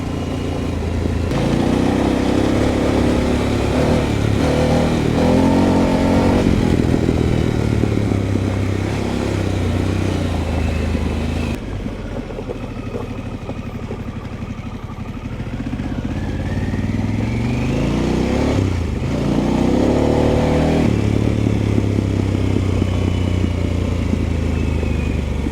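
A cheap motorcycle rides a gravel road southwest of Auckland, its engine droning loud and continuous throughout, rising and easing with throttle changes, with gravel crunch and rattle underneath.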